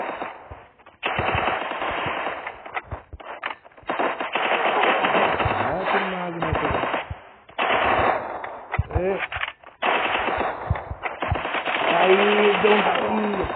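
Rapid automatic gunfire from the mobile shooter game Lone Wolf bursts in long, dense stretches broken by brief pauses, loud and close, while someone talks over it throughout.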